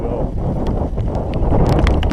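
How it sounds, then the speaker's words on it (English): Wind buffets the microphone outdoors while fishing, a steady loud low rumble with faint knocks and rustles on top. "The weather is really starting to pick up. The wind."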